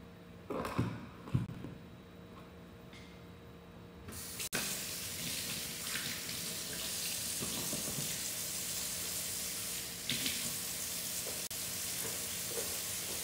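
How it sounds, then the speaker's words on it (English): A kitchen or studio tap runs with a steady, hissing stream of water that starts abruptly and continues evenly, fairly close, with a few clatters near the start and no talking. "the water's running here, but."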